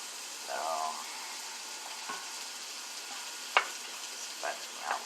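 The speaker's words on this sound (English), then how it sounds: "this butter melting here" Butter melts in a hot pan while cooking chicken pot pie, giving a steady soft sizzle and frying hiss with a few light clicks of utensils, no talking.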